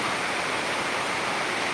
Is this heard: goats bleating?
no